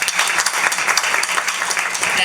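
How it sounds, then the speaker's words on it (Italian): Audience clapping for a guest named Darwin at an event presentation, a dense burst of many hands applauding close by, with a voice talking over it. "facciamo un applauso a Darwin"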